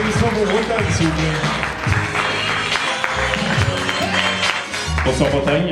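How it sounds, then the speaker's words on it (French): Studio audience applause at a televised student-election debate, a steady broadband clatter filling the whole stretch, with a musical jingle running underneath. "Applaudissements pour Bretagne, s'il vous plaît."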